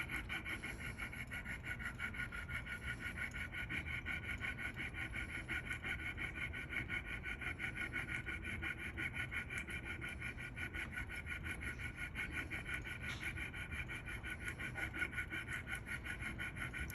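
A hand saw cuts a metal ring shank held in a miter block, making a steady, rhythmic rasping rub that repeats in even strokes up close for the whole stretch, with no voices.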